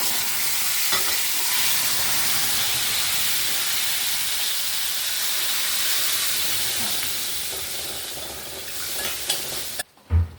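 Mustard seeds, cumin and curry leaves sizzle hard in hot oil as a tempering for moong dal, a loud steady frying hiss ending in a few sharp spits and clatters.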